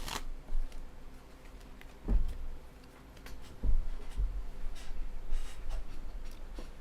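Tarot cards being shuffled softly at close range, a few faint brushing and tapping bursts over low background noise.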